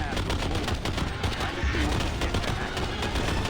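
Rapid AK-67 rifle fire in the sci-fi shooter EarthFall Alien Horde, a dense continuous clatter of shots running steadily through the whole stretch with game noise mixed in.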